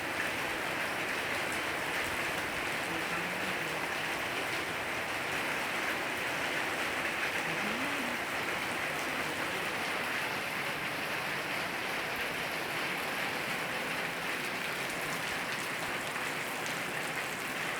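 Steady local rain falls over a boarding school compound during the school holidays, a dense, even hiss without pause for the full length, with faint chirping sounds briefly audible beneath it.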